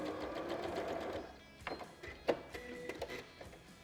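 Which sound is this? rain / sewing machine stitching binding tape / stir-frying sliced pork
sewing machine stitching binding tape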